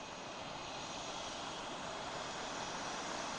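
Jetstream aircraft engines roar in a steady, broad, continuous whine while the plane taxis back, heard fairly faintly and alone without any talk.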